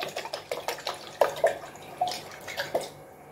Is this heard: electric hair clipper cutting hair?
no